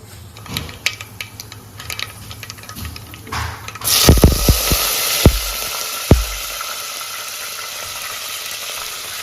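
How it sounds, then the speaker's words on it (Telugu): Cumin and tempering spices fry in hot oil in a pan for a Telugu tomato bath, a sudden loud sizzle rising midway with a few sharp metallic clinks of a utensil against the pan. "ఆయిల్ వేసుకొని తాలింపు దినుసులు, జీలకర్ర వేసి బాగా వేయించుకోవాలి"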